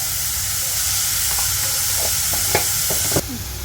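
Onions and tomato fry in a pan for an egg and potato curry, hissing in a loud, steady sizzle with a few sharp spatula scrapes and taps toward the end.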